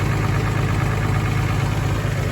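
A farm tractor's engine idles steadily and close, a constant low rumble with mid-range drone and vibration holding even throughout, no voices.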